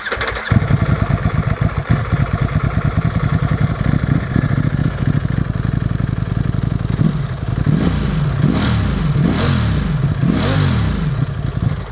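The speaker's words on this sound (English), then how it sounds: "The way this V4 motor sounds is something to get used to because it sounds really different." A Ducati Streetfighter V4S V4 motorcycle engine runs loud and close, rumbling steadily before rising through several sharp revs to about 5,000 RPM that climb and fall in quick succession.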